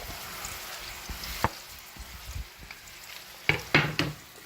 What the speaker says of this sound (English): Want to cook these onions down a little bit.